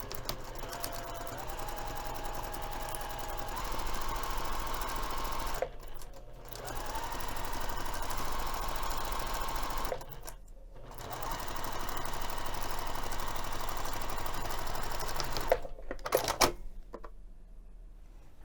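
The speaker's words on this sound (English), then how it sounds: "So I'm going to sew this entire edge." A sewing machine runs steadily along a messenger bag's edge in three long bursts, pausing briefly between runs, close and loud with no talking.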